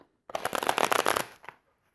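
A deck of tarot cards being shuffled in a brisk burst of dense riffling and flapping, close and fairly loud, followed by a brief final tap of the cards settling, with silence before and after.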